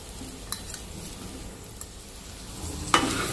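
Marinated soybeans going into a hot pan with turmeric, coriander powder, Kashmiri red chilli powder and biryani masala, giving a low steady sizzle with a few soft stirring scrapes and one louder clatter near the end.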